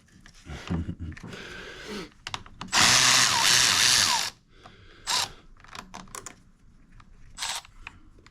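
A tool works the 10 mm battery bolts on a John Deere Z335E zero-turn mower, with clicks and short bursts around one loud, sustained whirring run and brief mechanical rattles close by.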